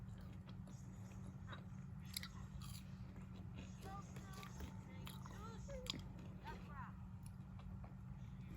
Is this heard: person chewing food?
yes